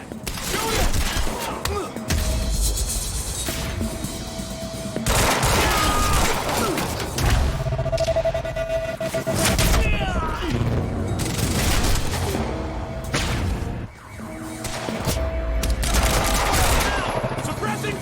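Gunfire in the video game Quantum Break, bursts of automatic fire and loud shots in repeated volleys, mixed with shouting voices and game music.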